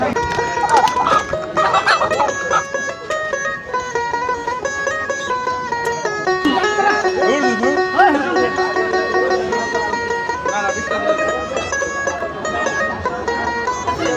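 Chickens clucking and a rooster calling repeatedly, loud and close, with a busy crowd murmuring in the background at a village market in Manikganj, Bangladesh.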